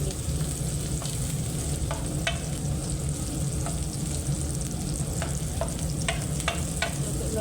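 Chili peppers fry with a steady sizzle in a hot pan while a utensil stirs them, scraping and clicking against the metal at irregular intervals, close and continuous with no talking.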